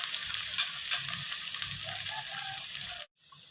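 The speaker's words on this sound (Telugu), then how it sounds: "దాని తర్వాత మనం పెద్దుల్లిపాయలు వేసుకున్నాము." Sliced big onions sizzle in a pan for hotel-style tomato bath, a steady close hiss with a couple of sharp pops early on, cutting out abruptly near the end before a quieter sizzle resumes.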